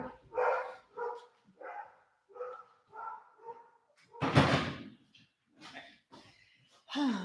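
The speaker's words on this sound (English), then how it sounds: "She's still in there barking" A dog barks indoors in repeated short bursts with one loud close outburst midway, heard from behind a door and mixed with room noise.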